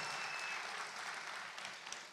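Audience applause at a Telugu Deepavali celebration, steady clapping from a crowd held for about two seconds, fairly dense and even with no voices over it.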